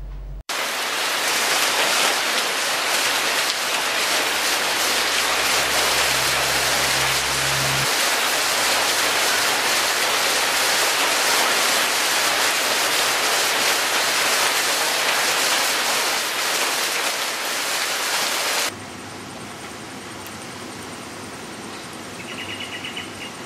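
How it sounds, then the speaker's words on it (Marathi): Heavy monsoon rain pours down in Ratnagiri as a dense, loud, continuous hiss with a low hum early on, then drops to a softer steady patter near the end. "तोच पाऊस आता दमदारपणे बरसू लागल्यानं शेतकरी वर्ग आनंदी झाला आहे."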